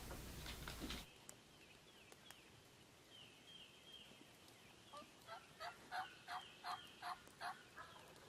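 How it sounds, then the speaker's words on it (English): A wild turkey gobbles a couple hundred yards off on a foggy, rainy spring morning. The bursts are faint and distant and come as a run of rapid repeated gobbles over a quiet background. "we hear this bird gobbling a couple hundred yards from us"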